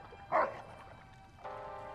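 A single dog bark from a movie scene, a short loud burst near the start, followed by quieter tonal sound and background hum.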